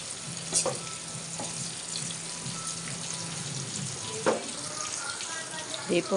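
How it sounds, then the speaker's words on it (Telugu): Bitter gourd pieces frying in a pan, a soft steady sizzle with occasional clinks and scrapes of stirring, fairly quiet and close. "మన కాకరకాయలు ఫ్రై అయిపోయినాయండి చూసారుగా బాగా ఫ్రై అయిపోయినాయి"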